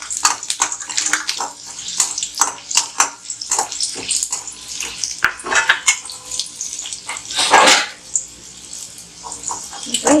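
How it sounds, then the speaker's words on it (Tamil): Garlic frying in the same oil used for potatoes, a loud, dense crackle and hiss that pops continuously with a brief surge of heavier spattering. "இதே எண்ணெயில் பூண்டையும் வறுத்துக்கலாம்"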